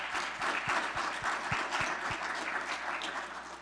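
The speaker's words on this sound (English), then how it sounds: "One more round of applause for everyone." Audience applause for workshop speakers in a South Auditorium at a climate-modeling workshop, a dense steady crowd clapping that holds for several seconds, with a few sharp low thumps near the start.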